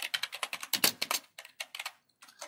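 Rapid keystrokes on a computer keyboard while JavaScript code is typed, close and clear, coming in quick irregular bursts with a short pause near the end before typing resumes.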